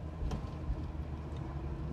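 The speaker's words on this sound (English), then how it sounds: "you get the nice rumble of the engine" A 1966 Ford Mustang coupe with a mild cam, headers and a four-barrel carburetor gives off a steady, deep, close engine rumble that holds for the whole stretch with no voices.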